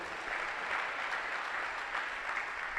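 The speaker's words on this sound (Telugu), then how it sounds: "చప్పట్లు ఒకసారి" Steady applause from a church congregation during a Telugu sermon, dense continuous clapping that swells slightly in waves and stays fairly even throughout, with no talking over it.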